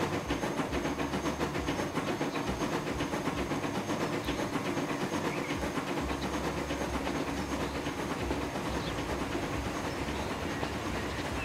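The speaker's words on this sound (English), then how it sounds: "Nevertheless, this train has rather good acceleration, so we don't have to worry too much about it stopping" A train in Transport Fever accelerating hard up an uphill climb, a continuous loud rumble with hiss and steady rhythmic clatter of the wheels throughout, no voices.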